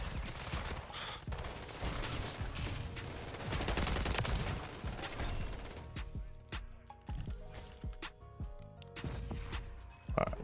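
SMG fire crackles through a Call of Duty MW3 match, dense rapid bursts for several seconds, then sparser shots mixed with other game sounds.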